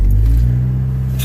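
A Honda car engine running on a cold start, with a low, steady rumbling idle that stays loud and close for the whole short stretch, with no talking.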